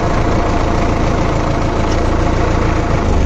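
A Preet 6549 65 HP tractor with a synchro shuttle gearbox idles close by, its engine a steady, dense low rumble that holds even throughout without revving.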